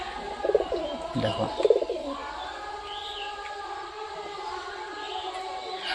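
A pair of domestic pigeons, one black and one white, coo in a few soft, close rolling bursts early on, with a brief spoken word and quieter birdsong in the background.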